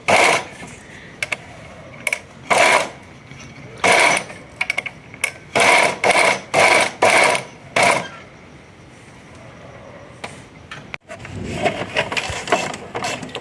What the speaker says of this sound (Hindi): आपने पेपर पट्टी के ऊपर नहीं सिलाई लगानी, पेपर पट्टी के किनारे किनारे पे लगेगी